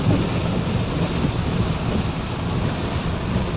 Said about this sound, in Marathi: पाहू शकतो पाऊस थांबायला तयार नाही.